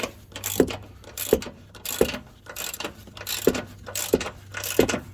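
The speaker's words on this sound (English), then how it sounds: "just relax, get in a comfortable position, and just keep on ratcheting" A ratchet wrench turns a bolt on the front upper control arm of a 2006 Ford Explorer, giving close, repeated bursts of clicking in a steady rhythm, about one stroke every fraction of a second.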